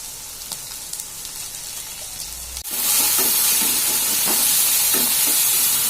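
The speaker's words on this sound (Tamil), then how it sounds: "இதை போட்டுட்டு நல்லா கிண்டி விட்டுக்கோங்க." Turmeric and chili powder are stirred into a masala frying in a pan, a quiet sizzle that swells into a loud, steady hiss and crackle, with the scrape of stirring heard repeatedly close by.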